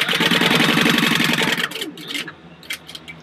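A sewing machine stitches a vinyl purse seam at a quarter-inch allowance in a quick, even whir, then slows and stops, followed by a few light clicks and handling sounds.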